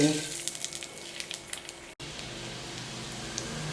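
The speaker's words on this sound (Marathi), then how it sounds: "चला आता आपण थोड्या जाळ्या तळू" Jali snack deep-frying in hot oil for a batch of crispy chivda: a dense, steady crackle and bubbling throughout, with one brief dropout midway before the frying noise resumes at the same level.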